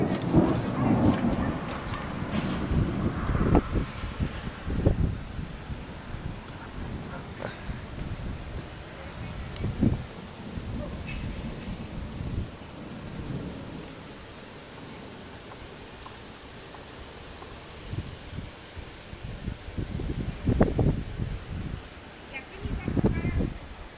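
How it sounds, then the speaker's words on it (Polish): Thunderstorm at a grandmother's home, with rumbling thunder and a steady wash of rain and wind noise throughout, loudest at the start and again near the end, while people talk faintly underneath. "Mamy burzę."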